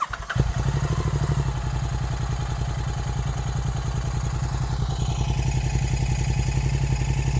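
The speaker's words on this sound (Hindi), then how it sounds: "इसमें गुरसेवक लगा है तो पहले हम लोग देखते हैं गुरसेवक का आइडल" A Royal Enfield 650 twin motorcycle fitted with a Gursewak exhaust idles loud and close, a steady thumping rumble that holds an even beat throughout with no voices over it.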